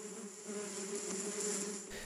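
Bees buzz in a steady, close drone with a sustained tonal hum, continuous throughout with no talking.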